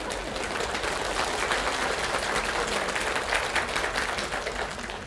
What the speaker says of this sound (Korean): 자연스님 얘기만 하면 박수를 치네요